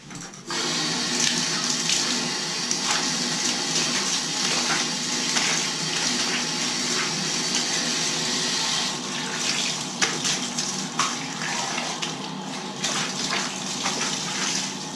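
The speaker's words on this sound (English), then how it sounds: "Now all you have to do is rinse it." Water gushes steadily from a tap, close and loud, as a stained colored fabric is rinsed under it, with slight splashing changes partway through and no talking.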